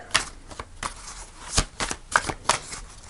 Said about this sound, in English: So I'll do a couple more shuffles.